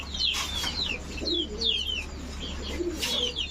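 Racing pigeons coo and call nearby, soft throaty murmurs mixed with higher chirps repeating over a constant background hum.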